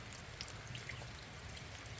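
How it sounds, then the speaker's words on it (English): Rain patters steadily on a forest trail along the Appalachian Trail, a soft continuous hiss with scattered drop ticks and no voices. "it's also raining."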